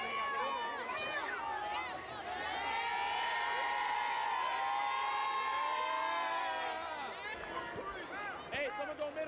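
A crowd at a youth AAU basketball game cheers and shouts with whoops and rising excitement, sneakers squeak on the court, and nearby voices talk and yell over the noise.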